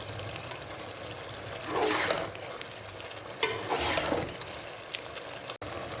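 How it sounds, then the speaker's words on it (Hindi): Potato, pea and fenugreek curry sautés on a high flame, giving a continuous soft sizzle broken by two longer surges of stirring scrape around two and four seconds, close and moderately quiet. "अब हाई फ्लेम पे हम इसकी कर लेते हैं भुनाई 4 से 5 मिनट अच्छे से।"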